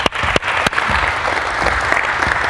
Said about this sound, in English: Nice, clap it up.